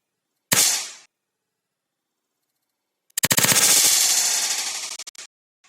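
A high-voltage capacitor charged to 290 volts from 220V AC and shorted with a conductive object: one sharp, loud bang, then after a pause a longer rapid crackling burst of sparking, close and harsh, with no voices.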